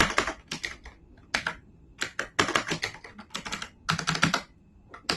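Typing on a computer keyboard while using Microsoft Word: close, loud bursts of rapid key clicks in uneven clusters with short pauses between them, no voices.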